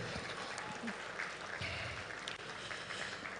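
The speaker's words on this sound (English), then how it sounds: "Please keep clapping until she gets here." Faint, steady clapping from an audience at a West African live-streamed event welcomes a keynote speaker, continuing evenly for a few seconds with a little crowd murmur underneath.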